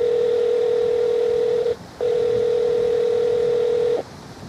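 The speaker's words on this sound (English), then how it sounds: "I'm gonna try calling my son Logan" Ringback tone of an outgoing phone call played through a BX-600 Bluetooth speakerphone, two long steady tones separated by a short gap, loud and clear with light background hiss.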